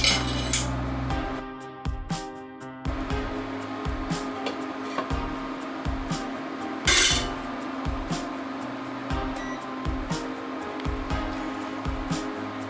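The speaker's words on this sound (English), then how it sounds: "I'm using this stainless steel slotted spoon" Chili con carne being stirred in a pot with a stainless steel slotted spoon, giving repeated close metallic scrapes and clinks in a loose rhythm, with one louder clatter partway through.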